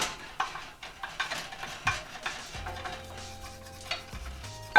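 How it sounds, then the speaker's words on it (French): Spatula scraping and stirring scrambled eggs broken into small pieces in a pan for shrimp pad thai, a series of close, irregular clinks and scrapes over a faint sizzle. "Donc là, on vient briser les œufs en plein de petits morceaux."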